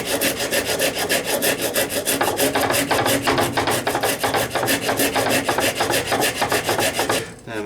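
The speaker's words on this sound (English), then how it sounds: "I think I'll go Japanese rasp. Using coarse side of the rasp." Steady, rapid back-and-forth strokes of the coarse side of a Japanese rasp filing a wooden bow tip in a workshop, loud and close with an even rhythm and no talk.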